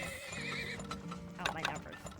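Horses in the video game Turmoil give a brief whinny over soft clip-clopping hooves, close and clear, with another sound layered in partway through.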